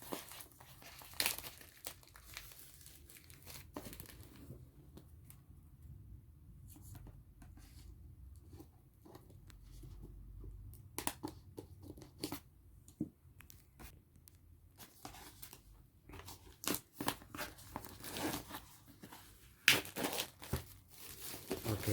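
Plastic packaging crinkling and tearing as it is pulled off a Toguard AP50 dome security camera box, a string of sharp crackles and rustles in irregular bursts, close and fairly quiet, with no talk.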